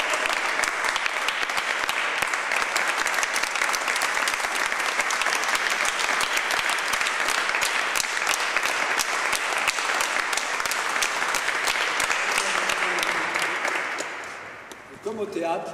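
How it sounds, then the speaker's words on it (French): Dense, sustained applause from a theater audience at a tribute event fills the room, loud and continuous, fading briefly near the end before picking up again. "tu peux applaudir plus fort"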